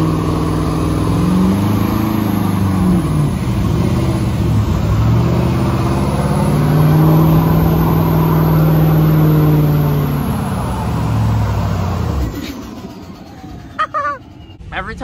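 18-inch lifted Ford F-250 King Ranch pickup on 40-inch tires, engine revving loudly and close in repeated swelling surges, then cutting off near the end, followed by brief faint sounds.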